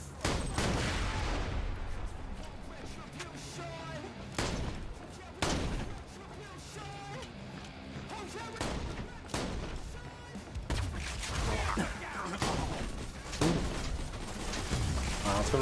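Dense video-game combat from Borderlands 2, with a grenade blast among steady gunfire bursts and heavy thuds over busy background sound, and talk mixed in.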